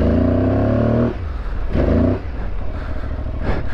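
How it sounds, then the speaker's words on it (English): Aprilia Tuareg 660 motorcycle ridden through deep sand in first and second gear, engine roaring hard in loud bursts that drop away between throttle pulls, close and alone with no talk. "it's fun once you get your speed up and you get the bike planing up on top of the sand"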